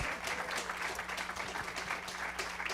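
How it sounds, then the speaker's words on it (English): Applause from an auditorium audience after a panel discussion, a steady, even patter of many hands clapping throughout, moderately quiet and slightly distant. "Can we please give them some applause here in the auditorium?"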